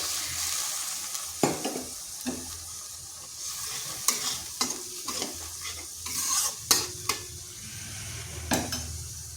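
Gathi kochu (taro) cooking in a frying pan as a little water goes in, a steady sizzle under repeated sharp scrapes and knocks of a spatula stirring against the pan, close and fairly loud.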